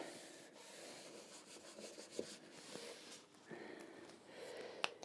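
A Metcalfe tarmac sheet being rubbed down onto a model, a faint, close, continuous rubbing and scuffing with a couple of small clicks.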